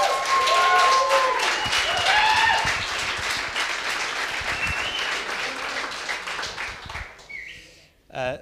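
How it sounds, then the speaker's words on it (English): Audience applause at a coding bootcamp demo day in Lisbon, loud and dense at first, then thinning into scattered claps that fade out, with brief bird-like chirps and a tap near the end. "I just wanted to ask for a warm round of applause to Emily,"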